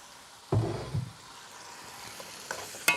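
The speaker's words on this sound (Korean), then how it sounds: "요렇게 연근을 기름에다가 많이 볶아줘야" Seasoned lotus root dropped into hot cooking oil in a pan gives a sudden sizzle and stir-fry clatter, fading quickly, then faint crackling with a small clink near the end.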